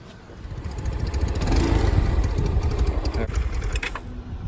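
Small single-cylinder Grom clone motorcycle engine pulling away in first gear, a steady buzzing drone that swells as revs rise and holds near and loud with a busy rattle, fading slightly toward the end.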